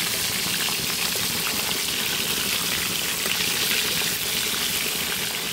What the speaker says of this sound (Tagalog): nagpiprito ako dito ng tilapia sa labas.